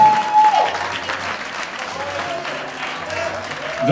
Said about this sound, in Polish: Brawa raz jeszcze!